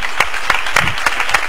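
An audience at a national flamenco cante por serranas contest in Prado del Rey applauds in a short, steady burst of clapping, with a few louder claps standing out from the dense wash.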